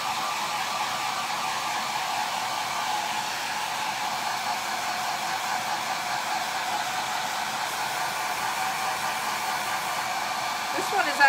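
A hair dryer blows steadily and close up for the whole stretch, drying a freshly worked Chalk Couture chalk-transfer Christmas truck craft. It is a continuous broadband whoosh with no talking over it.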